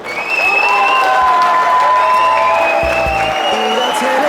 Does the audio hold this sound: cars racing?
no